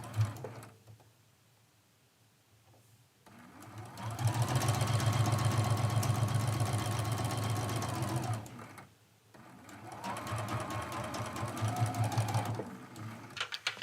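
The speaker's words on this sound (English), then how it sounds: "I'm going to bring that foot pedal over and we'll sew this first seam" A domestic sewing machine stitching a quilt seam, running in two steady whirring bursts with a brief stop between, close and moderately loud over a low background hum.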